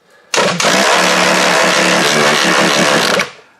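A car engine is cranked over by the starter motor, a loud close whirring drone with a steady rapid pulse that starts abruptly, runs for about three seconds without catching, then cuts off.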